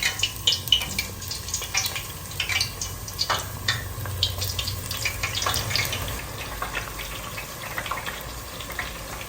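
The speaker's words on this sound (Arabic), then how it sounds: "بعد ما حمر الزيت هلا رح ننزل باذنجان" Eggplant slices sizzling and crackling in hot oil in a home kitchen, a steady close frying hiss with small bursts of popping.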